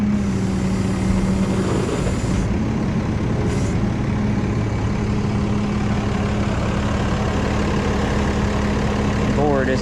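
A parked truck's diesel engine idles steadily and loud throughout, a constant low rumble with brief hiss near the start and end, while people talk nearby.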